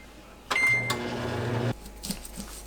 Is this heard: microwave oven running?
yes